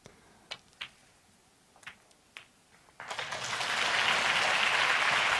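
A snooker crowd at the 2017 China Open breaks into applause after a few sharp ball clicks, the clapping swelling quickly into a loud, sustained wash of hands.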